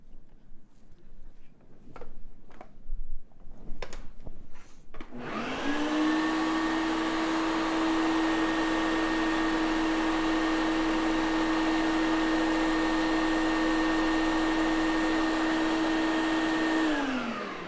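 A few sharp knocks come first, then a food processor grinding nuts spins up into a loud, steady motor whine that holds evenly for a long stretch before stopping.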